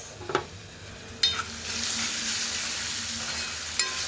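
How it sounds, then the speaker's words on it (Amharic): Carrots and onions sizzle steadily as they fry in a pot, with a few sharp scraping stirs at the start and later, close and continuous with no talking. "ካሮትና ሽንኩርት ተጠበሰች።"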